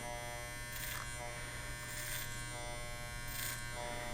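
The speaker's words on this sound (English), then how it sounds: "clipper over comb technique you got to get good at just by doing it over and over and over again." Electric hair clippers buzz steadily during a clipper-over-comb haircut, with three brief brighter bursts as the blades bite into hair, close and fairly quiet.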